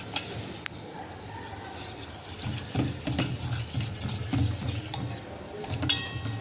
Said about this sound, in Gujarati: હવે આપણે તેમાં છાશ એડ કરીશું થોડી થોડી કરીને। તેને આપણે મિક્સ કરી દઈશું